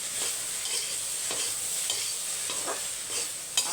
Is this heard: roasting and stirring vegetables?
yes